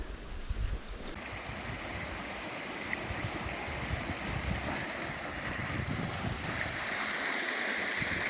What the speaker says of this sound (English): And there's this beautiful creek.